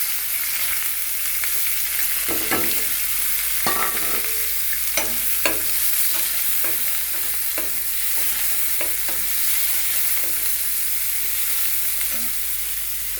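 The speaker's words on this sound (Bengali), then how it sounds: "এবার পেঁয়াজ কুচি দিয়ে দেব তেল গরম হয়ে গেছে" Chopped onions frying in hot oil in a pan, a continuous loud sizzle with frequent stirring scrapes and clicks of a spatula, close up with no talking.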